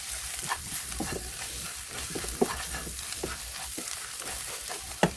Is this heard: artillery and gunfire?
no